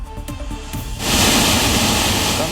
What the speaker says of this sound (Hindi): सैलाब का जोर और शोर दोनों ही डराने वाला है